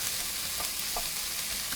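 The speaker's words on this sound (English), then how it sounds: "I'm adding the celery." Celery stalks frying in a pan for jerk chicken fried rice give a steady, close sizzle with a few stirring scrapes and no voices.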